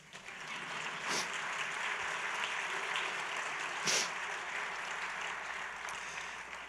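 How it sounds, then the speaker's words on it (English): Audience applause at an inaugural celebration for a new administration, steady clapping from a crowd filling the room at moderate distance, with a couple of sharper swells and no talk over it. "go ahead, clap"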